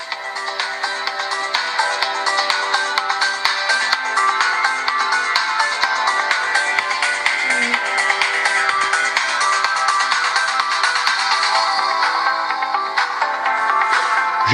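Music plays steadily and fairly loud through the built-in speaker of a Nubia Z17 mini smartphone, a continuous full-range sound with no talking.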